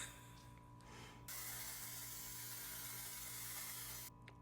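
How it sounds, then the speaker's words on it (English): A single continuous hiss of a spray mist, close and soft, lasting about three seconds against quiet room tone. "I'm gonna spray just one more light spray"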